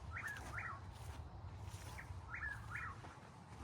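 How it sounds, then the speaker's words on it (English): A whippoorwill sings faintly in the distance at summer sunset, repeating a short rhythmic three-part call over a low outdoor rumble. "see if you could hear the whippoorwill singing"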